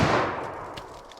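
A single .44 Magnum shot with semi-jacketed hollow-point ammo fired outdoors at a target block: a sharp, loud report that decays over about a second, with a faint clink near the end.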